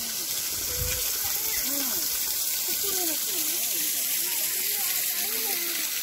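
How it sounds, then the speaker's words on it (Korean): An artificial waterfall at a herb village gives a loud, constant rushing roar close by, while birds chirp repeatedly over the steady water noise. "여 폭포도 이렇게 해놨고."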